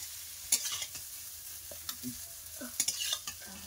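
Pumpkin slices frying in a pan with oil as a home cook stirs them, giving soft, quiet sizzling broken by a few sharp scrapes and clinks of the spatula, close by and with no talk.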